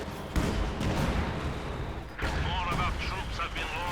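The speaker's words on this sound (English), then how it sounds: "Field gun firing there." A field gun fires in the World War II strategy game Company of Heroes 2 during a 2v2 match, with two heavy booms trailing into rumbling battle noise; a voice is heard briefly under the later blast.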